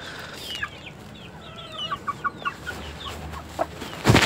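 A rooster suffering from distemper clucks in a string of short, sharp calls while being grabbed and held, the clucks coming close and moderately loud over a low background rumble.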